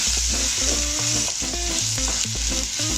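Ginger and garlic tossed into hot oil with crackled fenugreek seeds, giving a close, bright sizzle with scraping stirs and knocks of a utensil against the pan in an uneven rhythm, with no talking.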